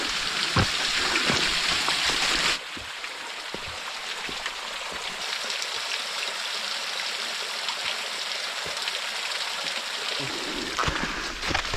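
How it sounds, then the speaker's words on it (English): A waterfall along the Ozark Highlands Trail gives off a steady broadband rush of falling water, loud at first and then a bit softer, with scattered footstep-like knocks and no talking. "Here we go, first waterfall,"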